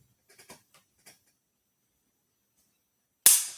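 A CZ 75 D Compact pistol, unloaded, dry-fired in single action: a few faint handling ticks, then a quiet pause and one sharp, close trigger-and-hammer click near the end.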